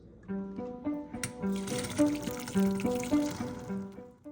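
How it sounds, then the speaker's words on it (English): Cooked chickpeas drained into a bowl, their cooking liquid pouring and splashing steadily for several seconds in a close, moderately loud kitchen stream with a few bright clinks. "Now I am draining them into a bowl and saving the water to use for cooking the rice."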